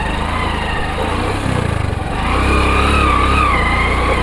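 A motorbike engine runs steadily, loud and close, its pitch rising slightly as it rides along a muddy, slippery rural road in the rainy season near Jambahar Dam, Lailunga, with no talking over it.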